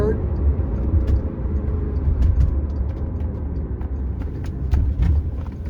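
A Porsche 957 GTS with a six-speed manual gearbox in sport mode, heard as a steady low engine rumble from inside the car during a downshift into third, with someone talking over it.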